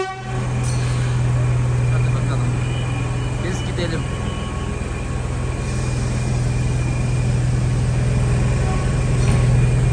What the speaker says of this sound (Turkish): Bizden tarafa gidiyor bu tren.